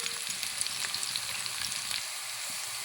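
Onions and cinnamon sticks frying in hot oil for a hotel-style mutton curry, a steady dense sizzle with faint crackles throughout, no voices.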